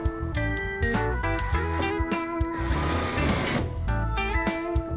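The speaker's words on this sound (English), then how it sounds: "Self-tap right into the ceiling strap." A power drill drives a self-tapping screw into the ceiling strap of a Sprinter van, whirring in short close bursts with pitch sweeps and a louder rising grind midway.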